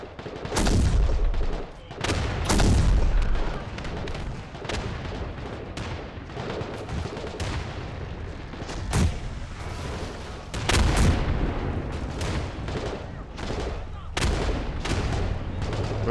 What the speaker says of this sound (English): Now we have the hillside battery here engaging with the infantry defending.